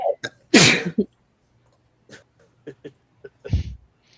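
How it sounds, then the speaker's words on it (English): A single loud, close sneeze with a sharp burst, followed by faint breaths and small sounds, then a quieter throaty exhale. "went off camera so he could sneeze"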